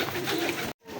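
A flock of around a hundred pigeons, Teddy breed birds among them, coos in a steady close murmur that cuts off abruptly near the end before resuming faintly.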